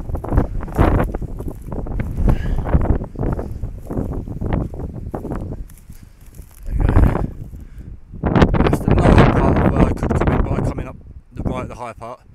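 Gusty wind buffets an outdoor microphone on a countryside footpath, rumbling in heavy low bursts that rise and fall over about twelve seconds, with someone talking through much of it.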